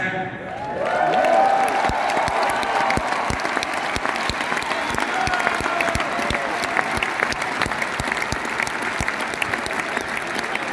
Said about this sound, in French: La foule est en délire.